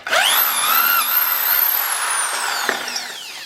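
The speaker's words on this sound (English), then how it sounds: "we can now drill that hole out using that as a guide" A power drill bores out a stripped camshaft bearing bolt thread hole in a Nissan GTR engine, with a steady high-pitched whine that rises and falls slightly across the run, close and loud, with no talk.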